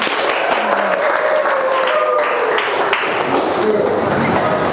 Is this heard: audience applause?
yes